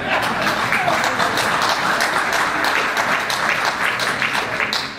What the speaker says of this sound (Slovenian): Sem zelo zadovoljen, da je prišlo do aplavza